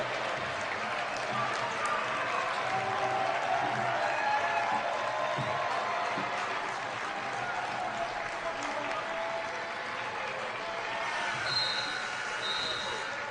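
The Morehead State home crowd cheers and applauds at a college basketball game against Murray State, a sustained roar of clapping and voices filling the arena under a faint announcer's voice.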